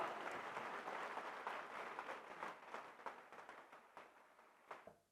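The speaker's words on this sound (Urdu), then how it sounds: "خواتین و حضرات بھرپور تالیاں" A crowd applauds at a Pakistani laptop scheme ceremony attended by PM Shahbaz Sharif, a faint, distant patter of many hands clapping that thins out and fades away toward the end.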